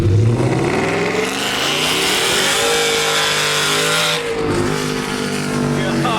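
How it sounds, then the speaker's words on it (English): A lifted, supercharged 2015 Ford F-150 pickup accelerating hard beside a wall, its loud exhaust roaring with rising engine pitch through the gears, close and dominant, with voices faintly underneath. "the exhaust is actually going to be aimed against this wall right here, so it's about to be crazy loud"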